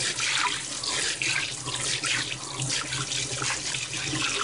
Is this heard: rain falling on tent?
no